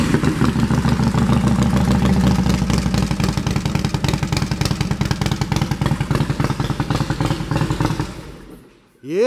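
A 2014 Harley-Davidson Softail Slim with aftermarket exhaust pipes idles in neutral, a loud, close, lumpy rapid thudding that holds steady for about eight seconds before cutting off abruptly.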